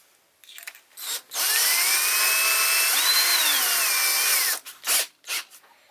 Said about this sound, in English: I'm going to do pilot holes first, because the arbor of this is quite large